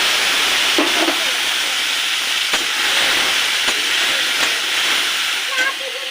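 Ground spice paste sizzling in hot oil over fried potatoes in a wok, with a continuous loud hiss, punctuated by a few sharp clicks and pops.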